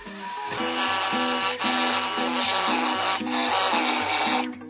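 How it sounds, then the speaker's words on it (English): A crimped wire brush is dragged along a clamped wooden board to give it a weathered, rustic look, making a loud, steady scratchy rasp in repeated back-and-forth strokes that stops briefly midway and then resumes. "Now use your wire brush."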